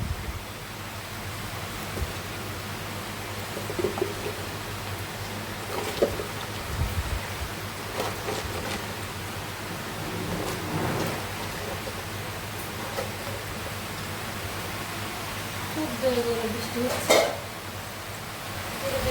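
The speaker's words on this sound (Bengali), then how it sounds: "অনেক জোরে বৃষ্টি হচ্ছে ঝুমসে বৃষ্টি হচ্ছে" Heavy rain pours down outside a home kitchen as a steady, fairly faint broadband hiss lasting throughout, with a few scattered louder patters and rustles.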